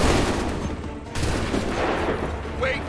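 Massed musket volley in Assassin's Creed 3, a dense burst of gunfire rolling across the whole clip with a brief lull near the middle, loud and close, then continuing crackling shots.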